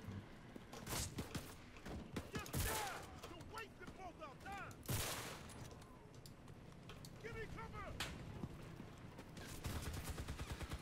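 Gunfire and explosions in the World War II shooter Enlisted, with repeated sharp shots and heavy booming blasts in bursts, plus a voice talking over the battle.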